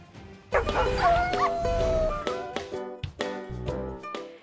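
Several dogs bark and yip excitedly at a New York City runway show during New York Fashion Week, sharp repeated barks overlapping with whiny yelps, loud and close, no speech.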